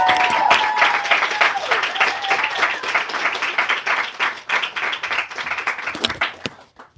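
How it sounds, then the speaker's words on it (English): An audience at a bookseller reading event breaks into dense, steady applause that continues for several seconds before thinning out and fading at the end. "Everyone, please give a huge round of applause for Josie."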